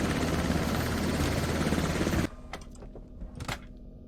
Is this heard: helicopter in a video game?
yes